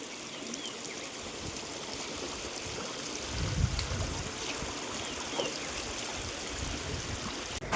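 Lake water splashing and trickling steadily as a motorbike is washed, with a brief louder splash midway; no talking, just continuous running water.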